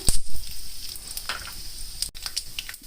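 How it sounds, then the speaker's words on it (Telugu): Peanuts, cumin, mustard seeds and a dried red chilli frying in hot oil for pulihora, a brief close sizzle with soft crackles and a few clicks of stirring, no talk. "ఇప్పుడు జీలకర్ర, ఆవాలు, ఒక ఎండుమిర్చి ఇవి కూడా కొంచెం చిట్పట అనే వరకు ఇలా ఫ్రై చేద్దాము"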